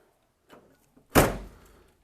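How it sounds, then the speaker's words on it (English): A single solid thunk of a vehicle door being shut, fitted with a Skillard S30 mirror mount, lands loud and close after a couple of faint soft knocks, then rings out briefly. "So we can close the door"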